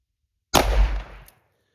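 A single loud blast from a .410 handgun firing a Federal Premium Personal Defense 000 buckshot shell, sharp and close, with a brief decaying echo afterwards and no talking.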